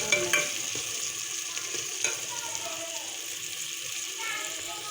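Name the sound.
dal being dry-roasted and stirred in a pan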